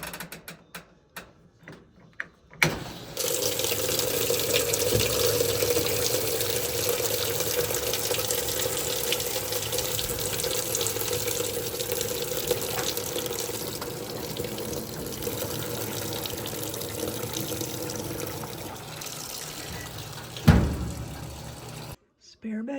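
Water rushes steadily into a washing machine filling to wash towels, a loud continuous close pour that runs for most of the stretch before cutting off, with a clunk near the end.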